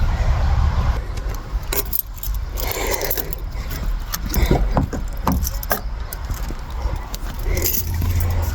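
A bunch of car keys jangles close and loud while the car is being opened, metallic clinks and rattles scattered over a low rumble of vehicle and street noise.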